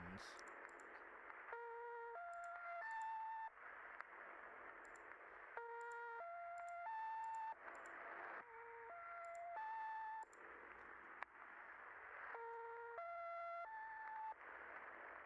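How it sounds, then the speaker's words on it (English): Radio signal tones from the Signalis video game repeat as a looping pattern of stepped electronic beeps, alternating with bursts of hissing static, clear and steady throughout. "But it's only playing this like tones."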